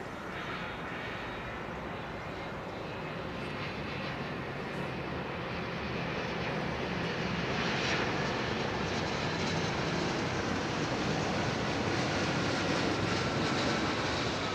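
Aircraft arriving at London Heathrow Airport in the early morning, a steady broadband jet roar that swells gradually and holds loud throughout with no talk.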